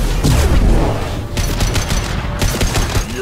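Sustained automatic gunfire from a Mass Effect 2 firefight, loud and dense, with overlapping bursts and booming impacts running nearly unbroken for about three seconds.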